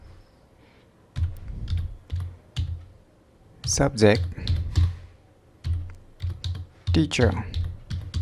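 Computer keyboard typing while entering words into a Microsoft Word document: short bursts of quick, close clicking keystrokes that alternate with a person speaking.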